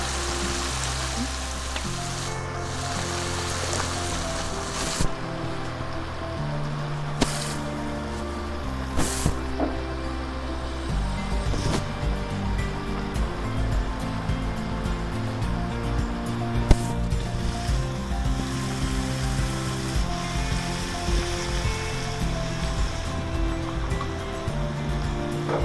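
Vegetables sauté in a hot pan for noodle rice, giving a steady close sizzle with scattered clinks and stirring knocks throughout.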